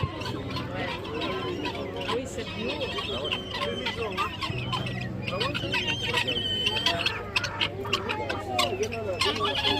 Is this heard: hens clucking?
yes